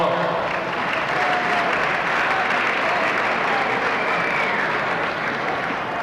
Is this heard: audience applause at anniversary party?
yes